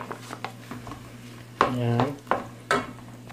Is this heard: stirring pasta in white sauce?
yes